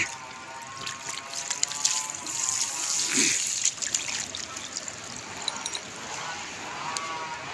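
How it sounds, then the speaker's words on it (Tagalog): Steady trickle of running water with a constant hiss, fairly close, continuing throughout with a brief louder splash midway. "Kanina pa siguro ito nag-agos yung tubig diyan"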